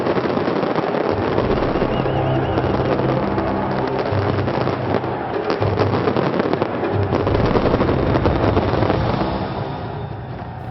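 Loud fireworks crackle and pop in a dense, rapid barrage that rolls on without pause before easing slightly at the end.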